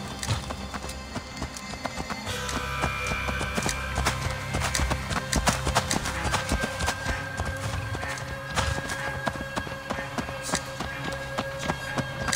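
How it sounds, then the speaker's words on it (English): Horse hooves clip-clop steadily in Assassin's Creed Valhalla, a continuous rhythmic trotting set within a dense game soundscape of ambience and music. "Let's return the horse"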